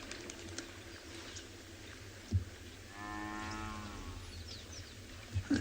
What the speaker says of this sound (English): Classic sort of buffalo sound, that.